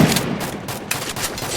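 Gunfire bursts in the Free Fire video game, loud rapid shots in close succession during a match, dense and sharp with no voices over it.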